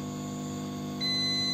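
A multimeter's continuity buzzer sounds a steady high tone while its probes are on a failed, shorted MDU 1514 MOSFET removed from an RX580 graphics card, faint under a low hum, starting about a second in.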